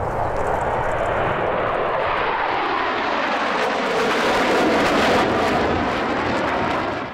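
A US Navy Legacy F/A-18 Hornet jet roars past at the EAA AirVenture Oshkosh 2019 airshow, a loud sweeping blast whose pitch shifts downward as it passes close by, with no talk.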